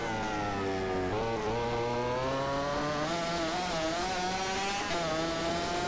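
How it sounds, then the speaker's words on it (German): A MotoGP racing motorcycle engine in the MotoGP 15 video game whines at high revs, climbing and dipping through gear changes in a steady, loud, continuous drone with no talking. "Wer den Sound der Maschine nicht kennt, der hört ihn jetzt."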